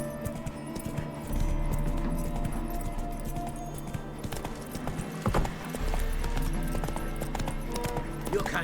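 Roach the horse's hooves clip-clopping in The Witcher 3, a steady rhythmic walk at moderate distance under game ambience, with a brief pause near the middle before the hoofbeats resume.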